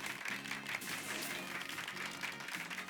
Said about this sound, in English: Give Pikachu a round of applause, everyone